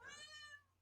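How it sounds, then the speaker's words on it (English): A cat gives a single short, faint meow in a quiet room. "I hear meowing."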